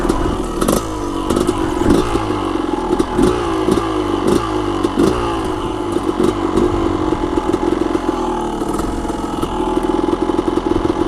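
A motorcycle fitted with a Lectron carburetor, ridden at high elevation, revs loud and close in repeated sharp throttle blips over a steady rattling engine drone.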